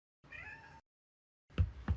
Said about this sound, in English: Talking cats here.